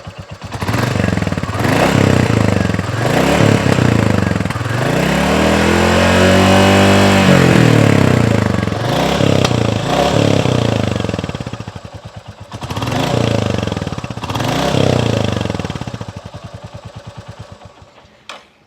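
A Royal Enfield Classic 350 motorcycle's single-cylinder exhaust, recorded up close and loud, thumps at idle and rises and falls through repeated throttle revs, with one long sustained rev in the middle.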